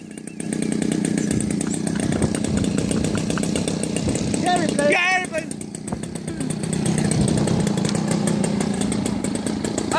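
Small RC model airplane engine idling on the ground, a steady buzzing drone with a rattly, chainsaw-like edge, close by, while a brief voice breaks in around the middle.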